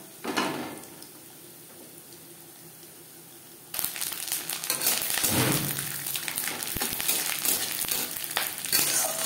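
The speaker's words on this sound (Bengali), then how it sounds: "নারকেল ভাজা হয়ে গেছে।" Chopped coconut frying in a pan for a vegetarian banana flower fry with chickpeas: a quiet, steady sizzle at first, then a louder, busier crackle with stirring and the scrape of a utensil against the pan.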